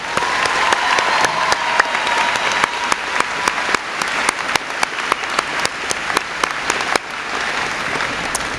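Graduation ceremony audience applauding in a large venue, a dense, loud wash of many hands clapping steadily for the whole stretch with sharp individual claps popping through.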